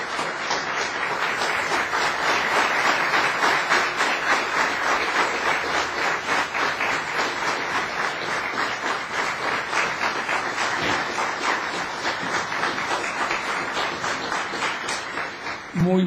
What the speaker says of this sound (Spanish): Y vamos a recibir a nuestro hermano William con un fuerte aplauso.